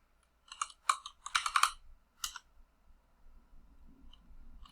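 Close, quiet clicking on a computer keyboard while a command is typed: a quick run of keystrokes in short clusters, then a single later tap and near silence.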